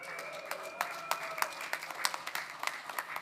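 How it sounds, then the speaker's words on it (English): Church congregation applauding during a talk about Hope Community in Baton Rouge, with a steady wash of scattered clapping from a moderately distant crowd throughout. "If this is your church, I want you to clap."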